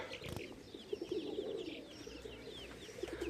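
Pigeons cooing near a rooftop pigeon loft, a low, steady burbling coo carrying on throughout with faint chirps above and no speech.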